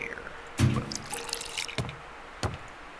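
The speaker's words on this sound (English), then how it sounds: "So you pop a hole in it with this thing, and then you pour it into here." In the horror adventure game Scratches, kerosene is poured into a torch, making splashy liquid drips and pours. Sharp bursts come in a few bunches while someone talks over them.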